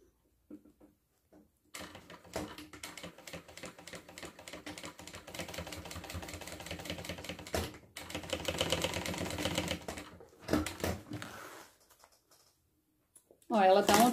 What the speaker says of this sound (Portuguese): E fecha com um pé de máquina.